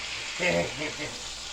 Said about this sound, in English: now we gotta stir them fried potatoes